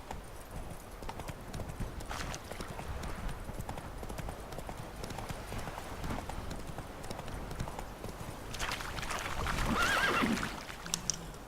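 Hooves of the horse Roach in The Witcher 3 video game clip-clop steadily at a trot, with a brief whinny near the end over ambient game sound.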